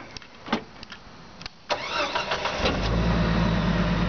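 A Jeep engine cranks with a few clicks and a brief starter whir, catches, and settles into a loud, steady idle close by.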